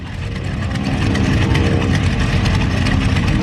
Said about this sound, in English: Joe Bender firing up a 300 horsepower Lycoming.